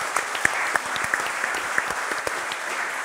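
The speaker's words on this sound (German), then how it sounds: "Auch Applaus für den Kollegen" A studio audience at a sports talk show claps together in a dense, continuous patter of many hands, fairly close, with a few sharper individual claps standing out and no talk over it.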